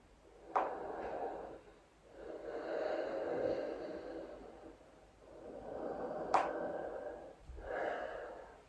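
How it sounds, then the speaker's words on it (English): Slow, audible breathing close by: long hissing inhales and exhales in a steady rhythm, with a couple of sharp clicks between breaths. "Switch on your Ujjayi breathing."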